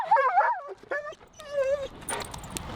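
Finn, a leash-reactive dog, lets out high whimpers and yips close by, a quick run of whining cries followed by a few short barks.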